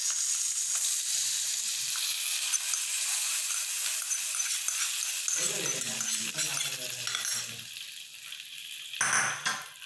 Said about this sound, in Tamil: இப்போ வந்து நான் தாளித்ததை வந்து எல்லாம் கொட்டி அப்படியே